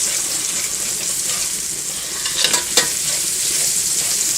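Shrimp, kalamata olives and feta cooking in a pan for a Greek shrimp pasta, giving a steady broad sizzle and hiss with a few brief stir clatters in the middle and no talking.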